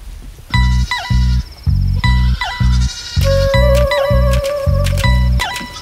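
Sheep bleating loudly and repeatedly over a steady pounding beat of low thumps, with bright, wavering cries rising and falling in a fast, rhythmic run and no talk.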